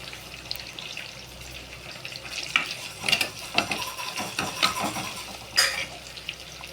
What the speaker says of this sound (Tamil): பெருஞ்சீரகம், வெங்காயம், கருவேப்பிலை நல்லா வதங்கட்டும்